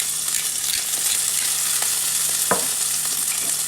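Tofu sizzles and fries in a pan with salt and pepper, a steady bright crackle with a few sharper pops and spatters, close up and without voices.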